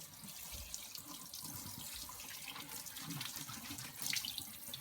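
Tap water runs steadily into a sink while potatoes are scrubbed under it, a continuous close splashing wash with a brief louder gush near the end and no talk.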